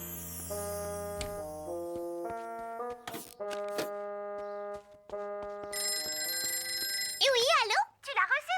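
Cartoon telephone bell ringing in repeated bursts over a bright musical score in a children's animated episode, then giving way to a voice answering.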